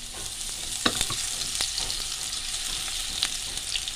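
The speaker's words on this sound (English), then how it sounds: "Nagigisa tayo ng sibuyas." Onions sauté in cooking oil over medium heat with a bright, steady sizzle broken by a few sharp utensil clicks and stirring taps, close and with no talking.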